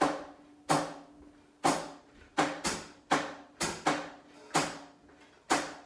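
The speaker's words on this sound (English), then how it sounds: "One of which is the bossa clave, which I'm sure all three of you are familiar with." Drum strokes beat out a bossa clave pattern, about ten sharp, ringing hits spaced in the uneven 3-2 grouping, loud and close with short decays and no voices.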